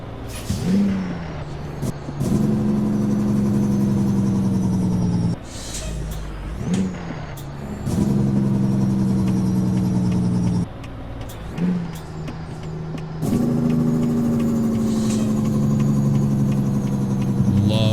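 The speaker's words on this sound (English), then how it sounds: "we'll turn the cruise control off here and get ready for our downshift" A big rig engine in American Truck Simulator drones and revs through repeated downshifts, pitch climbing then dropping at each gear change, with air-brake hisses and a brief gap between shifts.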